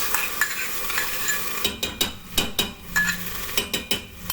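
Curry paste fries in a pan with a spoon scraping and stirring, a soft sizzle under sharp knocks and scrapes that come in an uneven rhythm, close and fairly loud.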